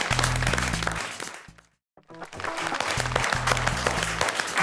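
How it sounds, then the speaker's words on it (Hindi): Studio audience applause at a Hindi comedy poetry show, loud and steady, briefly dropping out near the middle before resuming with a low musical tone underneath. "शर्माइए मत, ताली बजाइए"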